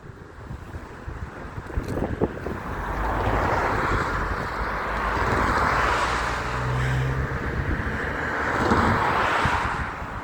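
A bus passes nearby on a town walk just past railway tracks, its broad rumbling engine swelling and fading over steady wind noise on the microphone.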